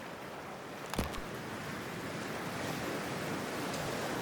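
Water splashes as a character wades into cold water in Cyberpunk 2077: one brief close splash, then a steady wash of rushing, surf-like water noise with no talking.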